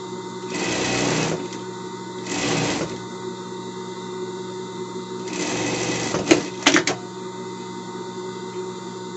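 A sewing machine stitches a dress lining to the main fabric. It runs in three short bursts of whirring with pauses between them, close by and fairly loud. Some light clicks and handling noises follow.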